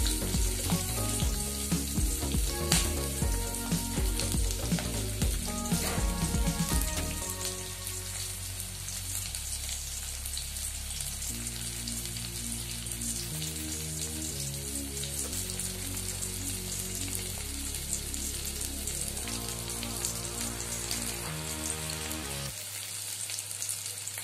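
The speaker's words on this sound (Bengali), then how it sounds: "তেল আমার গরম হয়ে এসছে, এই অবস্থায় আমি কড়াইয়ের মধ্যে পেঁয়াজ দিয়ে দিলাম" Sliced onions hiss and crackle in hot oil in a wok, a dense continuous sizzle that stays steady throughout, with music playing over the opening seconds.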